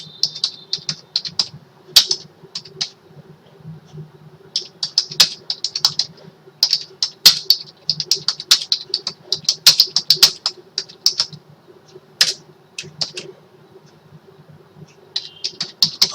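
A computer keyboard being typed on while a comment is written in a Python program, giving irregular bursts of crisp, close key clicks with short pauses between them.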